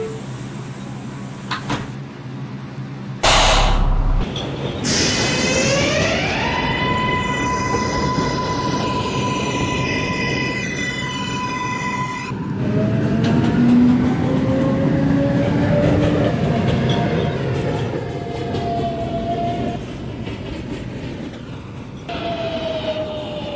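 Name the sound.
subway train running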